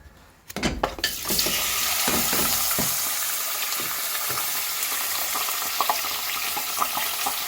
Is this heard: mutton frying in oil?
yes